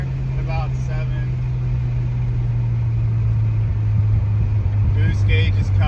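Stock 13B-REW rotary engine car fitted with a BorgWarner S364sxe turbo, shifting forward through gears while driving in Mexico; a steady droning engine rumble fills the cabin with faint voices underneath.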